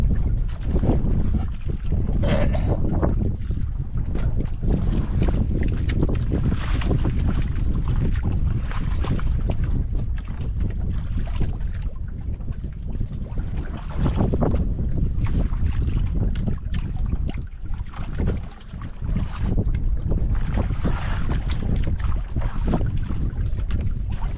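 Steady wind roars across open water with a fishing boat's rumble underneath, buffeting the microphone continuously throughout.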